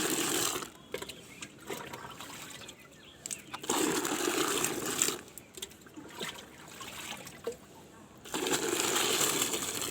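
Clean water is poured to fill a container up to twenty-five litres, a steady gushing, splashing stream that comes in long spells with brief breaks, close and fairly loud.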